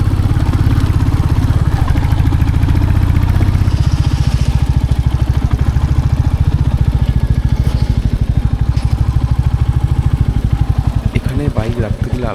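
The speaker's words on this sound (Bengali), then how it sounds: "45 মিনিটেরও বেশি টাইম ধরে বাইক চালাচ্ছি" A motorcycle engine drones steadily and close up as the bike rides a mountain road near Ravangla, Sikkim, with a rhythmic pulsing rumble and wind throughout, and a voice talking over it.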